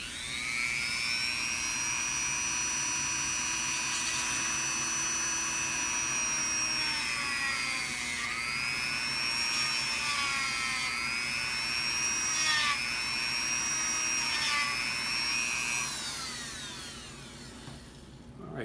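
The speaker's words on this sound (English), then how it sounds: "let's go ahead and get that drilled out" A small drill whines steadily as it bores out a plastic part for a scratch-built model, its high pitch dipping and recovering several times under load over nearly twenty seconds, close and continuous.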